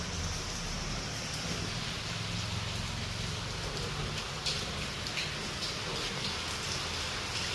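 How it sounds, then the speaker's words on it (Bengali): Heavy morning rain falls steadily outdoors, a dense, continuous hiss with a rumbling low end. It holds at an even level throughout with no voices. "বৃষ্টি তো খুব হচ্ছে সকালবেলা দিয়ে"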